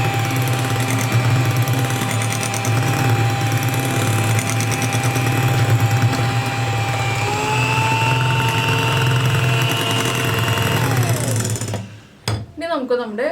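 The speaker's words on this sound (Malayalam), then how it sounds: "ചെറുതായിട്ടൊന്ന് ബീറ്റ് ചെയ്തെടുക്കുക" An electric mixer whirs steadily as it beats chocolate sponge cake batter with vinegar added, a loud, even motor hum that winds down near the end with brief clatter.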